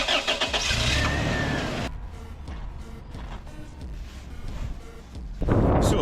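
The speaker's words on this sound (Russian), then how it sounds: "Можно немножко щелкнуть зажиганием или просто завести машину и заглушить." A car engine with a squealing drive belt, treated with talc, runs loudly and then shuts off, leaving a quieter stretch before it fires up again with a sharp surge at the end.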